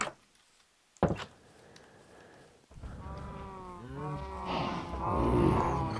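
Cows in the Minecraft video game let out several drawn-out moos near a farm, following a door click, with the calls overlapping and growing louder toward the end.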